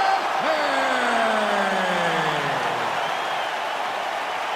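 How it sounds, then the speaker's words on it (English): Arena crowd noise fills a UFC 5 video game broadcast ahead of a middleweight title fight, a steady loud roar under a gliding announcer-style voice that swoops down across the first few seconds. "you can hear the crowd response with everything that this man does"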